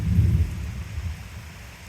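Close thunder from a nearby thunderstorm, a deep rolling rumble that starts strong and slowly fades, with rain hissing steadily in the background.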